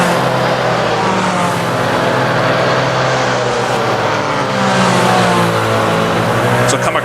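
Race car engine in the Assetto Corsa video game on the post-war Prinzenpark circuit in Germany, droning loud and steady as it changes up a gear, with someone talking over it throughout.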